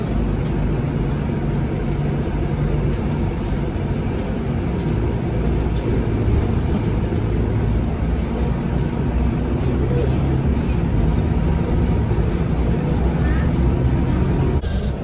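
Steady loud drone of a bus riding through traffic in Dubai, low engine and road rumble continuing unbroken throughout, with people talking over it.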